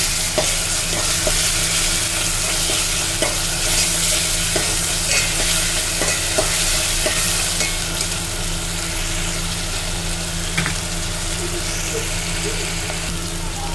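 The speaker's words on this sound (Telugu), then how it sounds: "ఇది కూడా పచ్చి స్మెల్ పోయేంత వరకు బాగా వేయించుకోవాలి." Fresh ginger paste and bay leaf frying in a pan for a chicken curry: a loud, continuous close sizzle with occasional faint stirring clicks throughout.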